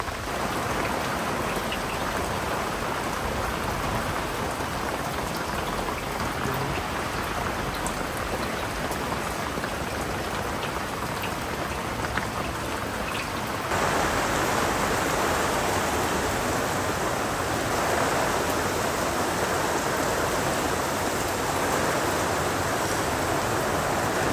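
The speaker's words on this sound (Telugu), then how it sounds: "విపరీతమైన వర్షం, యాక్చువల్గా గాలి" Heavy rain driven by wind pours down steadily outdoors near an open cooking flame, a dense, continuous hiss that swells louder partway through, with no talking.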